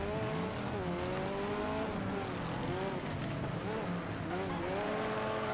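A race car in Wreckfest corners with a steady engine drone and rising, falling tire squeal through the bend, while someone talks over it.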